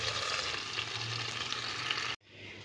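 Zucchini rolls filled with chicken mince fry in a pan with a steady, fairly quiet crackling sizzle that drops away abruptly near the end, then comes back more softly.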